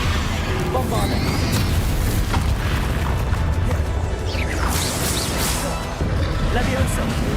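Loud, dense game combat in Hogwarts Legacy: a Bombarda spell blast rumbles amid continuous booms, whooshes and clashing effects, with a voice speaking over the chaos.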